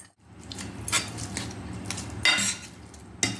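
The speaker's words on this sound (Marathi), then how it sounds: "आता यात आपण हे भाजून घेतलेला कांदा, लसूण आणि मिरची टाकत आहोत आणि यांना सुद्धा मॅश करून घेणार आहोत." Roasted onion, garlic and green chili being mashed into tomato for a traditional Marathi tomato bharit, heard as close clattering and scraping of a utensil against a pan with a few sharper knocks.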